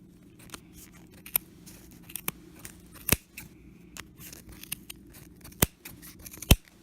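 Scissors snipping through yarn while making a pom-pom, a handful of sharp, close cuts spaced irregularly over quiet handling rustle, the last few louder.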